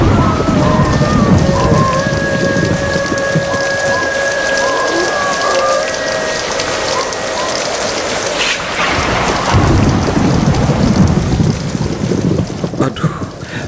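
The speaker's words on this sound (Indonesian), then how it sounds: "mana hujan begini lagi. Bisa-bisa sampai 3 hari belum tentu reda ini" A radio drama sound effect of heavy rain hammers steadily on a surface, with rolling thunder building midway and a loud crack of thunder near the end, dense and close throughout with no talking.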